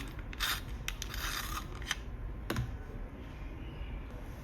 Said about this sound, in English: first I need to sharpen my pencil